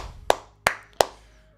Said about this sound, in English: I'll clap it up to him for that.